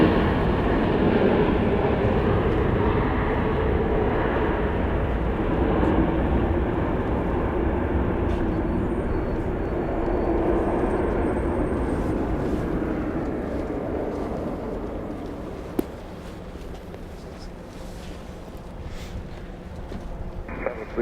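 Landing airliner at Dallas Love Field with spoilers up and thrust reversers deployed, a loud rushing roar that slowly fades over the run, ending with a few clicks and handling knocks, with a voice talking briefly.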